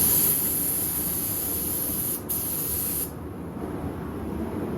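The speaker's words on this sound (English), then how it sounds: "I've got some lacquer in the gun. I'm going to hit it a little bit" Spray gun laying a light dust coat of lacquer onto an RC car body shell, a steady close hiss that runs throughout, slightly easing after a brief break partway.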